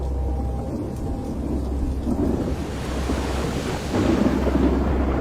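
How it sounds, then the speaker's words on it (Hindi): A heavy thunderstorm with steady, dense downpour and deep rolling thunder, loud and continuous throughout, swelling slightly louder near the end, with no voices. "शायद ही आसमान का कोई हिस्सा होगा जो इस बाढ़ वाली बारिश से फट नहीं रहा था।"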